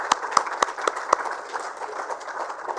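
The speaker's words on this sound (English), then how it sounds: "I think this deserves a big round of applause." An audience at an awards ceremony applauds, a spread of moderate, fairly distant clapping with a few sharper hand claps standing out near the start.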